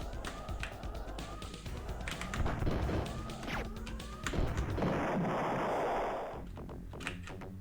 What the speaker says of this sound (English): A pretty strong cannon on the Oars